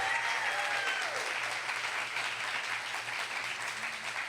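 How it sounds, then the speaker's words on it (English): An audience at a university digital arts and design graduate showcase applauds the presenters, a sustained, even wash of clapping with a faint tonal hum underneath and no talking. "I'd like to give a big congratulations and round of applause to the July 2019 DAD Graduate Showcase presenters"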